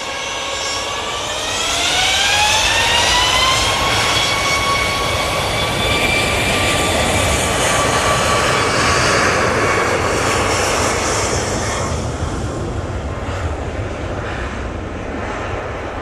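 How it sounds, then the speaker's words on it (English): A Ryanair jet airliner rolls down the runway at Manchester Airport on takeoff, its engines spooling up into a loud, sustained roar with a rising whine that slowly fades toward the end. "Ryanair on the roll."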